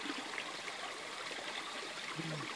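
A mountain creek flows in a steady, continuous babble of water over stones, close and moderately quiet, with no voices.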